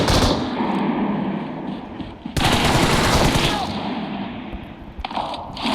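Rapid automatic gunfire in the mobile battle royale game PUBG Mobile, dense loud bursts nearly filling the stretch with a brief pause midway, while a voice talks faintly underneath.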